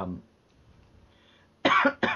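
Two short, loud coughs close by after a stretch of quiet room noise, the second following quickly on the first.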